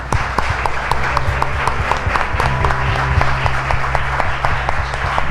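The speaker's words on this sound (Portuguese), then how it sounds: "Você pode dar uma salva de palmas ao Senhor?" A church congregation claps loudly and steadily, many hands close by in a dense, continuous round of applause with a low rumbling background throughout.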